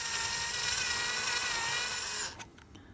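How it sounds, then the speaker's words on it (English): A power drill whines at a steady high pitch as it countersinks a screw head into a part for an SR250 ignition timing advance kit, then stops abruptly, followed by a few faint clicks. "I'm going to drill in here, and I'm just going to sink the head in"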